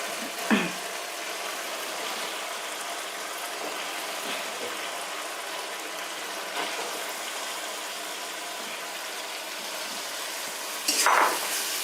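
Chicken going into a pan of fried spices with turmeric and salt for chicken bhuna khichuri, giving a steady, soft sizzle that holds evenly throughout, with a couple of faint clinks and no speech over it.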